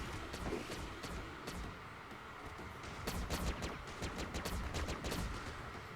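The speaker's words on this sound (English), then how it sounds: "I think he's shooting me from across" Rapid bursts of gunfire in the mobile shooter game FRAG Pro Shooter, sharp cracks fired in quick clusters over constant background game noise, denser and louder in the second half, no talking.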